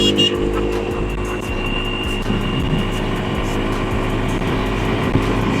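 A new-model 150cc T-3 moped ridden through city traffic, its engine droning steadily and loudly throughout, close and continuous with a slight rough flutter.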